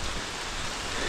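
Steady rain falling outdoors in Ella, Sri Lanka, a dense, even hiss that stays loud and unbroken throughout the brief moment.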